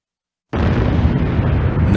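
A supernova explosion sound effect bursts in after half a second of silence, a loud, sustained low rumbling roar that holds steady to the end.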